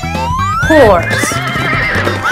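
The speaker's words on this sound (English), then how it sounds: "horse, yay, hello, hello," A cartoon horse neighs with a rising whinny over an upbeat children's tune in an animal quiz game, with faint clip-clop and cheerful voices around it.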